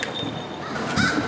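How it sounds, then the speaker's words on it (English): Crows caw among downtown trees in Sacramento at sundown, a couple of brief harsh calls in quick succession over a faint city background. "If you can hear the crows, but they're aware that he's here"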